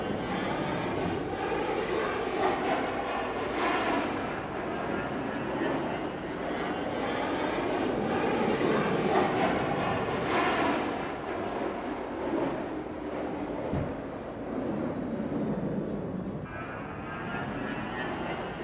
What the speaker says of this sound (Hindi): 2 MiG-29 ने एक साथ उड़ान भरी है।